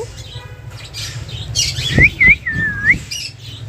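Green-cheeked conures in a bird shop give several sharp rising squawks and whistled calls, loud and close, over a low steady background hum.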